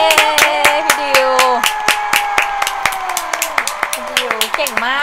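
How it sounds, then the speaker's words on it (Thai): Audience at a masked singing show at a temple fair clapping in sharp, rhythmic beats, mixed with a prominent sustained voice and some crowd noise. "ขอเสียงปรบมือกับคุณดิว"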